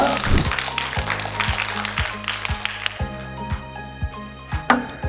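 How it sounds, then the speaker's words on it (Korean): At a youth life school lecture event, an audience claps to welcome the first speaker. The moderate applause runs over a steady, pulsing musical backing, with a few louder claps near the end. "큰 박수 부탁드리겠습니다"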